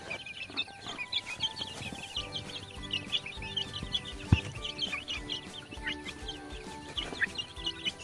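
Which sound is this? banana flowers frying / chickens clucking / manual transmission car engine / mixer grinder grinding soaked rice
chickens clucking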